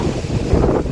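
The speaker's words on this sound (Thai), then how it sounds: "โอ้ลมแรงนะครับเพื่อนๆ ลมแรง" Strong wind blowing hard into the microphone outside a temple, a loud continuous low roaring rumble with no talking.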